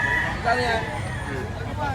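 Rooster crowing among chickens at a bustling poultry market in Lipa, Batangas, with voices, crowd babble and occasional clucks mixed in; the crowing carries moderately loud over a steady busy background.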